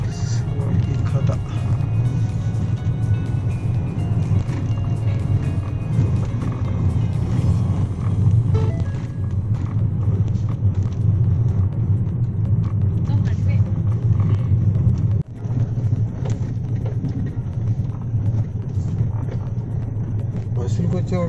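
A car on a road trip from Hampi to Dandeli gives a steady low engine and road rumble that runs continuously, close and fairly loud, with people talking over it throughout.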